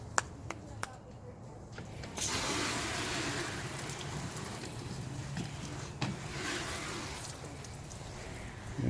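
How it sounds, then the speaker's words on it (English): A water hose on a low shower setting rinses down a car's engine bay, a steady hissing spray that starts after a couple of seconds of quiet clicks and continues evenly to the end. "So now we're just gonna take our water, make sure it's again on a low power shower setting."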